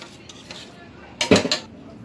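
Butter being stirred into rice in a pot, soft scrapes followed by a brief cluster of louder spoon-against-metal clinks and knocks, close by.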